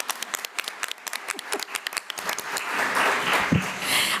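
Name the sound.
audience applause at a board meeting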